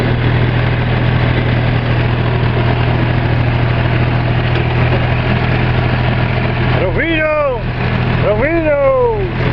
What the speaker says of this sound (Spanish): Está buenazo el tractor.